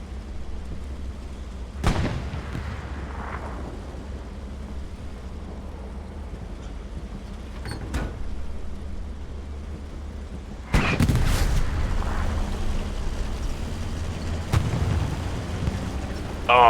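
Tank cannon shots and shell impacts in a tank-only World War II video game match on Utah Beach, a few loud booms spaced seconds apart over a low rumbling battlefield bed.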